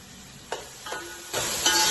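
Tomatoes with mint and coriander lightly frying in a pan for tikka biryani, a soft steady sizzle punctuated by several stirring scrapes and bursts that grow louder toward the end, with no voices.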